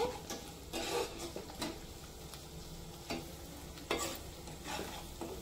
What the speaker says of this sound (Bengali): হলুদের গুঁড়ো দিয়ে দিলাম, ধনিয়া গুঁড়ো দিয়ে দিলাম, বিরিয়ানি মশলা দিয়ে দিলাম। এবার আমি মশলাগুলো কষিয়ে নেব।